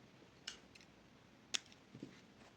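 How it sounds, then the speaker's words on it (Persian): Scissors snipping raffia yarn after crocheting a beach bag, two or three sharp, faint snips spaced apart in a quiet room. "اضافه نخ رو قیچی کنید."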